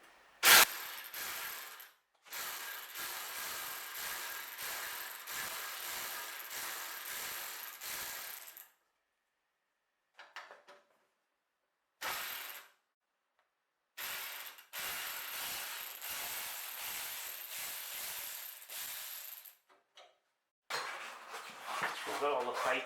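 Ratchet wrench with a 13mm socket unbolting the front wing from its frame on a Mini Cooper R56, clicking in close, rapid bursts separated by pauses.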